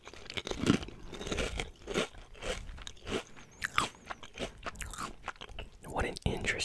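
Spicy crayfish Pringles chips crunched and chewed close to the mic, repeated crisp bites and chewing in an irregular rhythm, with soft talking between bites.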